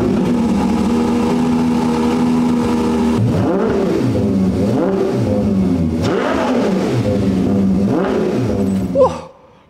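A high-pitched Ferrari 812 Competizione Aperta V12 engine revs repeatedly, rising and falling in several wailing sweeps after a steady idle, loud and close, ending abruptly.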